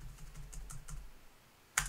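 Quick, light keystrokes tap out a short burst on a computer keyboard, close and clear, ending with one sharper final click.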